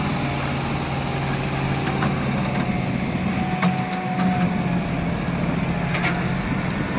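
John Deere 5210 and Kubota tractors strain against each other in a tug-of-war contest, a steady mid-loud diesel rumble with crowd noise and occasional sharp clicks or knocks over it.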